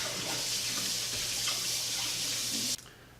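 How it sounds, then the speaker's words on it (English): Hands washed under a running kitchen tap while making meatloaf, a steady hiss of flowing water with small splashes that cuts off abruptly near the end. "I gotta wash my hands."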